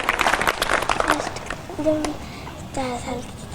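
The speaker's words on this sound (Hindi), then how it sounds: "लोपिता के लिए ताली बजा दो भाई।" An audience in the Patanjali Gurukulam hall in Haridwar claps for a young girl in a brief, dense burst of hand claps that fades after about a second, followed by a voice and other talking.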